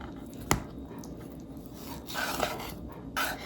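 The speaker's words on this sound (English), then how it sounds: "poke a knife in just next to the bone, cut it down" A knife cuts raw chicken off the bone while deboning meat for home-style Kung Pao chicken: one sharp tap, then soft rasping, scraping strokes close by, with no talking.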